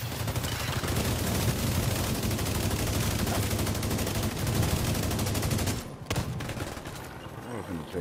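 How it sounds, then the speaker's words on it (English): Rapid sustained bursts from a Vector submachine gun in The Division 2 Dark Zone PvP, loud and continuous fire for several seconds before cutting off into quieter game sounds. "That vector be sounding off, bro."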